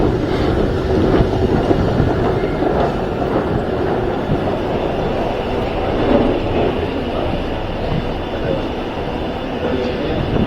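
A London Underground tube train rumbles loudly and steadily at a northbound platform, with wheel and motor noise filling the station and no speech.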